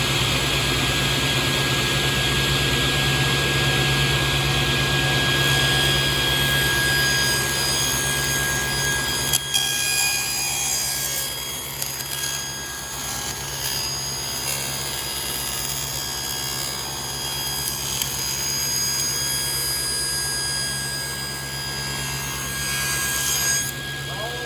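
A woodworking machine runs with a steady, loud whine and hum while ripping a board for the bottom and sides of a wooden tool box; the tone shifts partway through as the cut proceeds, with faint voices in the background.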